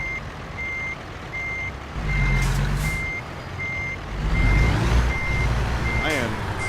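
Steady, evenly spaced reversing beeps from a truck backing a trailer into a parking spot in American Truck Simulator repeat throughout, set against low engine rumble, with someone talking over part of it.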